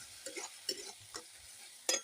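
Spices being stirred and sautéed in a pan for a Bengali fish curry, heard as a few brief, soft scraping strokes spaced apart, quiet and close, with no talking.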